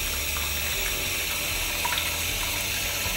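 Tap water runs steadily into a sink, about a third full, being filled to cushion dentures during cleaning; a continuous close hiss and gush with no talking.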